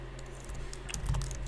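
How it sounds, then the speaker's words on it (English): One-handed typing on a computer keyboard: a light, irregular patter of clicky keystrokes, close and fairly quiet, with a low steady hum underneath. "One-handed typing for the win"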